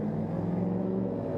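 A rider travels on a scooter along Forest Home Avenue under a darkening sky, with a steady, close engine hum and drone that continues without a break.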